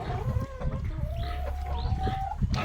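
Chickens at a breeding farm, including Rhode Island birds, clucking and calling close by, with one drawn-out call and scattered softer clucks over a steady low farm background.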